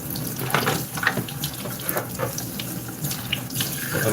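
Tap water runs steadily into a kitchen sink while cabbage is rinsed for a potato salad and baked chicken meal, a continuous splashing stream with small clatters of vegetables being handled.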